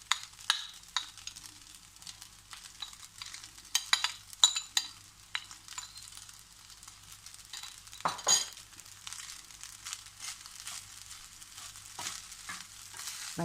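Scrambled egg being stirred into frying egg fried rice in a pan, with sizzling underneath and irregular scraping and clinking of a utensil against the pan, close and clear without speech.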